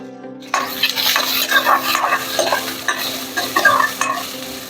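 Three onions frying in a pan for mutton sambar, loud close sizzling that starts abruptly and carries on with repeated spatula stirring and scraping throughout, no voices over it.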